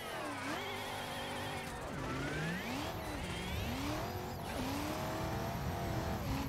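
A BMW E92 drifting along a street in a racing game, its engine revving up and down in sweeping waves with tires squealing through slides, loud and continuous with no talking.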